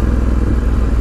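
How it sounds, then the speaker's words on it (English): A 2018 Ducati Scrambler 1100 Special motorcycle idles close by, its engine and exhaust giving a steady, loud, lumpy throb with clattering valve pulses and no voices. "you can really hear the valves on the exhaust opening and closing"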